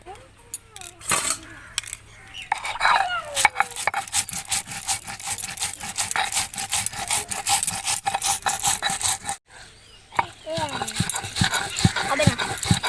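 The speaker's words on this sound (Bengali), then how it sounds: "প্রথমে আমি জিরে আর ধনেটা বেটে নেব।" Cumin and coriander seeds ground by hand into a paste: repeated rough rubbing and scraping strokes in a steady back-and-forth rhythm, close and prominent, with voices audible in the background.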